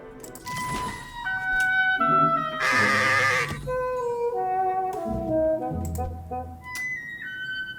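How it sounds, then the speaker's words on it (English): A wild mountain ibex, a species of goat, calls within the Cell to Singularity video game, giving a series of wavering, nasal bleats that rise and fall, loud and close, mixed with tonal game music. "Ibex, a species of wild mountain goat"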